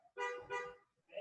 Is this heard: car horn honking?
yes